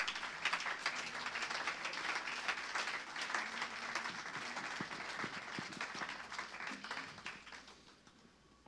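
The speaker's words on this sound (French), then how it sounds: "Clap for the Lord." A church congregation claps together for the Lord during a worship service, a steady, dense patter of many hands that runs throughout and fades slightly near the end.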